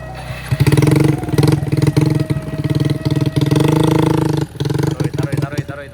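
A Kawasaki Ninja 250cc motorcycle engine revs hard and pulses under throttle while climbing a hill, loud and close, with a brief dip in the revs near the end and voices shouting over it.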